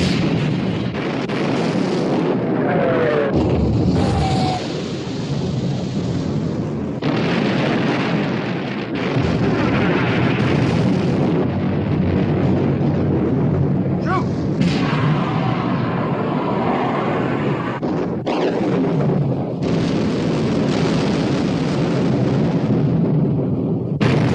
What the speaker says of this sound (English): Prince of Wales and Bismarck exchanging fire.